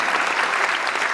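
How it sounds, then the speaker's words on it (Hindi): Audience at a Kolkata Hindi poetry recital breaks into steady, dense applause that fills the whole moment without pause, with no voices rising above it. "मुझे भी बता दो भाई एक बार ताली बजा के आप लोग"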